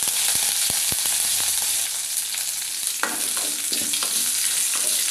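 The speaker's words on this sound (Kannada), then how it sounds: "ಸ್ವಲ್ಪ ಎಣ್ಣೆ ಕಾದ ನಂತರ ಸ್ವಲ್ಪ ಸಾಸಿವೆ ಮತ್ತು ಕರಿಬೇವು ಹಾಕಿದರೆ ಆಯಿತು." Mustard seeds and curry leaves sizzling in hot oil as tempering for ridge gourd chutney, a loud, steady frying hiss with sharp pops and crackles throughout, close and without talk.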